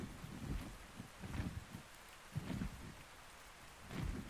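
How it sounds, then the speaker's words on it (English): Rain in the Ark Survival Ascended video game, faint soft patter with low rumbling swells recurring every second or so, distant and quiet throughout. "It looks like it's going to rain, so."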